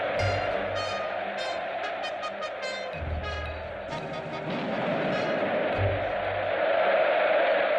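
A vast crowd massed in Tiananmen Square, Beijing, on 1 October 1949 murmurs and cheers in a distant, continuous swell, captured on old archival audio.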